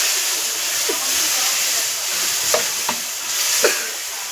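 Sambar tempering sizzling in a pot as it comes to a boil, a steady close hiss with a few soft taps and clinks over it, no talk.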